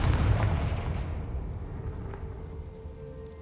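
A fiery Confringo spell blast in Hogwarts Legacy: one loud, deep booming explosion at the start that decays into a long rumbling tail, with no voices.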